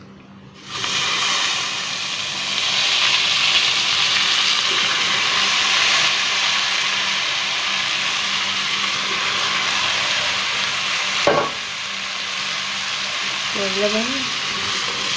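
Rice tipped onto browned vermicelli in a hot pan gives a sudden steady hiss of frying that holds loud and even, with a brief clank of stirring near the end and a short voice at the close.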